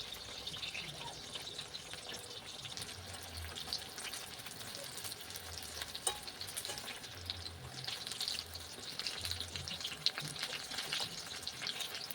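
Egg and flour evening snacks frying in a pan of oil, a steady soft crackle and bubbling hiss running throughout at moderate distance, with no talk.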